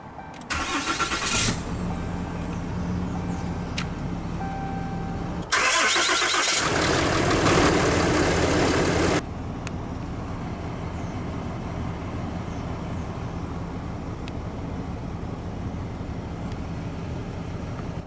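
A 2020 Ram 3500 Big Horn crew cab dually with the 6.7 Cummins diesel cranks briefly, fires with a loud roar, then settles into a steady, close diesel idle.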